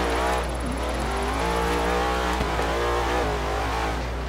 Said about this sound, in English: Even got some pops, full throttle.